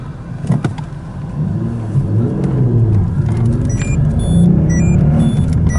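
A 2005 Peugeot 407 Coupe's 3.0 V6 engine with manual gearbox rumbles and revs steadily from close range. A few short electronic beeps sound near the end.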